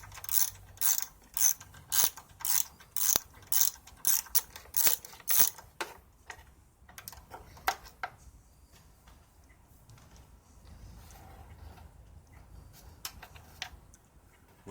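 Ratchet clicking as bolts are loosened from the airbox plate of a Kohler 17 HP engine on a 2014 Troy-Bilt Bronco mower: bursts of crisp, close ratcheting clicks at a steady rhythm, then sparser, fainter clicks and taps.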